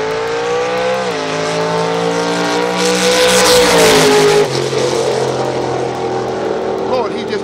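Drag race down the strip between a Mustang and an S-10, engines roaring loud and close with layered rising revs, a surge around the midpoint, then a steadier drone, with voices underneath.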